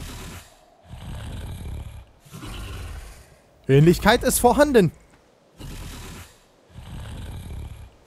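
A walrus in the video game ARK snores with slow, rhythmic, rumbling breaths, each lasting about a second. Someone speaks loudly over one pause midway through.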